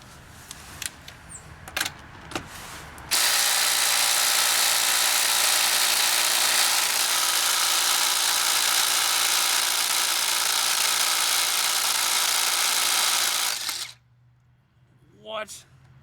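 A Ridgid Gen 5X subcompact brushless impact driver hammers on a car lug nut in one loud, continuous burst of about eleven seconds after a few clicks, then cuts off abruptly, followed by a brief voice.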